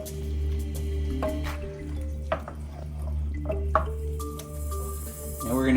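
Steak and morel mushroom meat is stirred into an onion sauce for stroganoff, giving soft wet squishing and dripping sounds over a steady low background hum, with occasional clinks.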